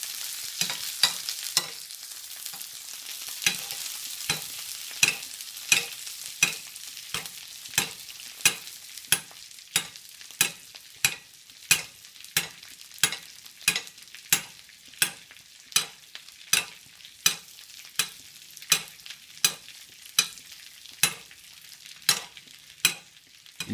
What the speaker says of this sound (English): basting it with that fat just gently cooks it